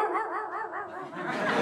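A voice mimics a dog's bark with a run of short, wavering yelps, a touch of laughter creeping in toward the end.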